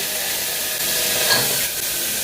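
Steady, close sizzling hiss of spices frying in hot oil in a pan, continuous throughout with a slight swell near the middle; no voices.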